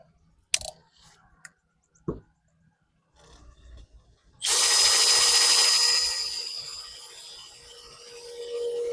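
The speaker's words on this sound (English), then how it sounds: "Make our pilot hole first." A power drill bores a pilot hole in a wooden fence gate. A few soft knocks come first, then a loud, close whir that lasts several seconds before it eases off, with no talking.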